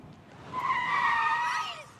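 Car tires skidding and squealing to a stop in a horror film scene, one drawn-out screech that rises, holds for about a second and fades.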